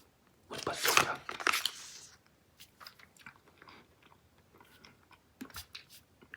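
Close-up chewing of original Bazooka bubble gum, with a loud crunchy bite followed by softer, sporadic wet chews and smacks, and speech mixed in.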